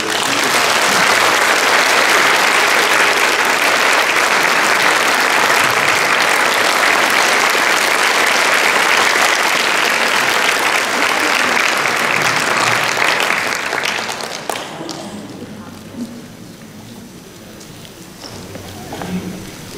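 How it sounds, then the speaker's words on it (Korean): A church congregation claps to welcome a pastor before a sermon, a loud, dense, continuous wash of applause lasting about fourteen seconds, then abruptly dropping away to quiet room tone with a few scattered sounds. "목사님께 환영과 기대의 박수를 보내드립니다."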